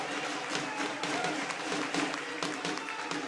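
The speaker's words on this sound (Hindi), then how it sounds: "उनको भी खड़े होकर तालियों से आप लोग स्वागत करें" Applause from a large outdoor political rally crowd at the new grain market in Rohtak, Haryana, a dense, continuous patter of clapping heard from a distance at low volume with no voices over it.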